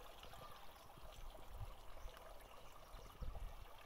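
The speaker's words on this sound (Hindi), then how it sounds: "तो ये रहा वाटरफॉल" A small waterfall in a green Himachal jungle, running with only a little water, gives a steady, soft trickling and splashing wash with no voices over it.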